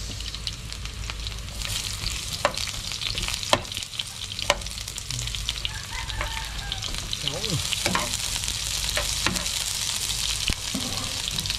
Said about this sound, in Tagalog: Ngayon, ilalagay natin ang bawang. Sunod natin dyan ay sibuyas.